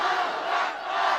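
A large religious gathering roars back a unison chant in answer to a Nara-e-Takbir call, a dense, sustained wall of many voices shouting together, loud and close, with no pauses.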